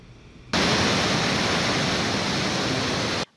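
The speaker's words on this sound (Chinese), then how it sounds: "溪水势是正落搁窜流，一直向桥冲过去" A mountain stream in the Alishan area, swollen by torrential rain, surges toward a bridge. Its loud, steady roar of rushing water starts abruptly and runs unbroken for about three seconds before cutting off.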